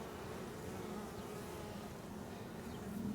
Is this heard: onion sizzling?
no